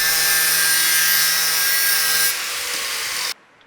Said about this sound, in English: when I'm cutting, I'm using the front bottom of the cut-off wheel